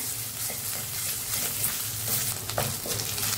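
Ginger garlic paste frying in hot oil with curry leaves while it is stirred, giving a steady close sizzle with light scraping of a spoon in the pan and no voices.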